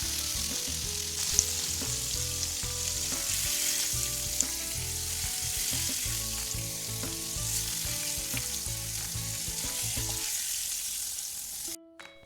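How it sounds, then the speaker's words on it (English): Steady, bright sizzling of adobo meat sauteing in hot oil in a pan continues for several seconds, with occasional clinks and stirring, then quiets near the end. "we're going to saute the adobo, so we're going to add a little bit more oil to the pan"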